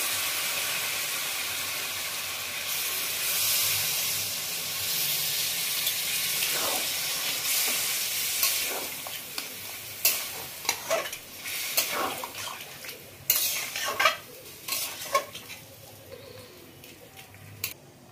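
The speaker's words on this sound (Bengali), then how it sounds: "এবারে আমি বাকি যে কাঁঠালের জলটা ছিল দিলাম" Leftover jackfruit water hits a hot pan with a sustained loud hiss and sizzle while cooking prawns, the hiss fading over time into crackling, bubbling and a few sharp clinks of a utensil. Nobody speaks.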